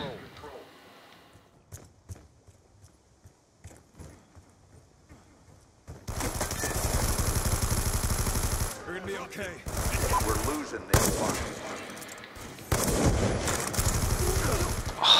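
Sustained machine gun fire in Call of Duty Black Ops 2 multiplayer, loud continuous bursts from about six seconds on after a quieter stretch with faint game sounds.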